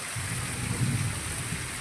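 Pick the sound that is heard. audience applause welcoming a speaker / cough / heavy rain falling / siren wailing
heavy rain falling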